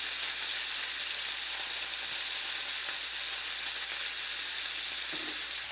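Mussels browning in a frying pan for a garlic black bean sauce, giving a steady, even sizzle of hot oil that holds throughout without pause, faint and close.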